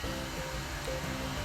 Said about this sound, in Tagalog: blower ng buhok ni Aniela, ng buhok ko